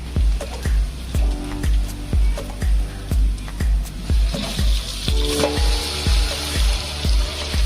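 Chicken frying in an onion, ginger and garlic masala for a chicken biryani, with a loud, steady sizzle and regular rhythmic stirring strokes scraping the pot every half second or so.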